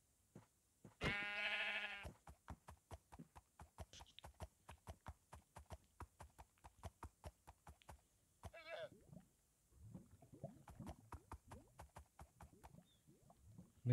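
Black sheep bleating in a video game, a loud harmonic bleat near the start followed by a long run of steady rhythmic clip-clop steps and softer game sounds.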